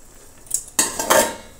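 Metal utensil scraping and clinking against a cooking pot while stirring food as it boils, with a soft tap followed by a couple of louder scraping strokes, close and alone.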